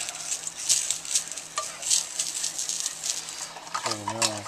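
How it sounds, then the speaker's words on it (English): A spoon stirs hot wing sauce made for chicken wings and thighs in a pan, scraping and sizzling steadily up close, with a brief clatter and a higher tonal sound near the end. "Stirring this all the time. It'll get thicker as I stir it."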